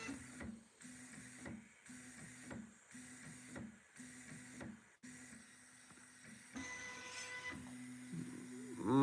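Probe on a Voron Trident 3D printer striking the nozzle during homing, heard as a series of evenly spaced mechanical buzzing taps and motor whirs, then steadier stepper tones, close and fairly quiet.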